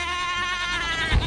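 A goat bleats in a Hindi-dubbed animated film, a short loud wavering cry with a low thump near its end, heard close and alone.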